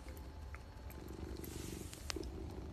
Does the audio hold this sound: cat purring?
yes